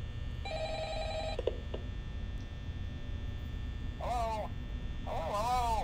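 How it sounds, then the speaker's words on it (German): Ringing from the office telephone in the Five Nights at Freddy's video game, set in a pizzeria: a steady electronic ring for about a second, over a constant low hum, followed later by a voice on the line. "Und das Telefon klingelt."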